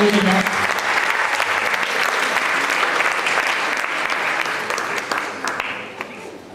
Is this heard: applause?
yes